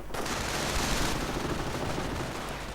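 Rifle fire rattles without pause through a World War II-style strategy game firefight between riflemen and grenadiers, a dense, steady wash of overlapping shots with no clear gaps.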